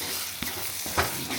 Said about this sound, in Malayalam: ഇനി ഒന്ന് നന്നായിട്ട് വഴറ്റിക്കുക.